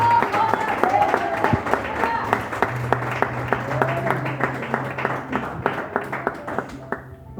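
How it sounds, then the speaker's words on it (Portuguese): Congregation in a Barueri, São Paulo church applauding for several seconds, a steady wash of claps with sharp individual hits throughout, fairly loud and close, with a low hum and faint voices underneath. "uma salva de palmas"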